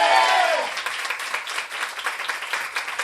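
Church congregation applauding during a Sunday morning sermon, a dense wash of many hands clapping steadily for about three seconds, with a brief voice tone at the very start.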